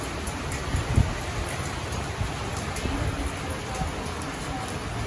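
Heavy downpour during a thunderstorm with strong wind in Rostov-on-Don, a steady dense hiss of rain with a couple of brief louder knocks near the start, continuous and moderately loud.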